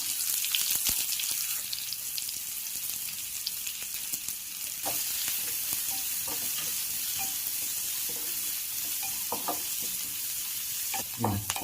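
Steady loud sizzling of onion frying in oil, with occasional stirring scrapes and clinks, continuous throughout with no talking.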